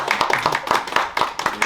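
A small group claps for Biel in a Catalan talk-show setting, a short burst of brisk, uneven hand claps close by and fairly loud, with no voices over them.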